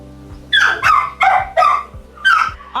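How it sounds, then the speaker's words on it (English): A dog in a professional grooming salon gives a run of about six close, loud whimpering barks and yips in an uneven rhythm, with no talking. "I'm ready to bring Dior to my grooming table"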